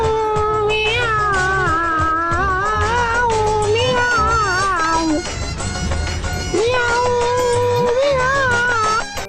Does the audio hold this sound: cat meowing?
yes